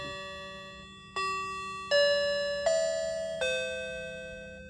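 An old doorbell chime rings out a short sequence of five ringing tones, each note sustaining and overlapping, clear and close.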